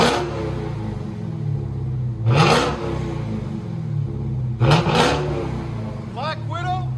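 A Dodge Challenger Hellcat with a 6.2L HEMI V8 and a Race Venom exhaust barks through two sharp revs over a loud, rumbling idle, with a person talking briefly near the end.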